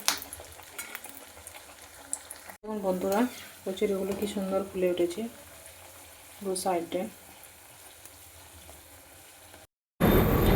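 Cauliflower kachori deep-fry in hot oil with a constant bubbling sizzle in the background, while someone talks over it in several stretches and a utensil clinks now and then.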